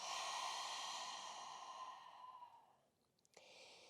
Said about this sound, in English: Open mouth, exhale, let it go.